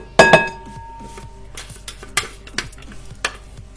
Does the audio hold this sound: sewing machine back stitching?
no